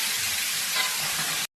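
Chicken kosha cooking in a pan gives a steady, broadband sizzle and hiss that runs unbroken at even loudness, then cuts off abruptly.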